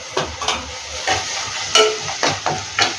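A spoon scrapes and stirs tomato masala, loosened with water and salt, in a pan, with rhythmic strokes about every half second over a soft, wet sizzle.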